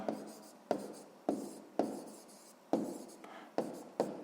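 Pen writing an answer by hand on paper during a sixth-grade maths exercise, a close scratchy scrawl broken into about eight short strokes, each starting with a sharp onset and tapering off, with no voice.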